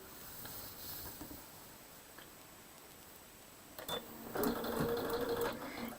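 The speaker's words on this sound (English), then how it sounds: "I'll bring it back to the sewing machine." A sewing machine runs in a quilting session, starting after a quiet stretch with a burst of rapid mechanical stitching that grows louder toward the end.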